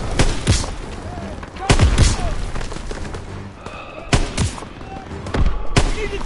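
Gunfire rings out in Call of Duty WWII: sharp gunshots and heavier booms arrive in irregular clusters, some close and loud, with a voice shouting over the battle.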